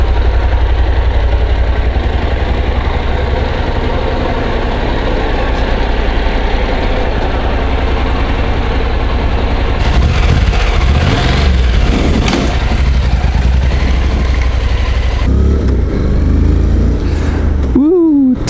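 A Honda CTX700N motorcycle, freshly reassembled after repairs, starts and idles loudly and close by with a steady deep rumble and a few brief revs, ending in a short rising whine.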